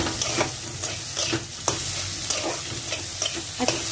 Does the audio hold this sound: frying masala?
yes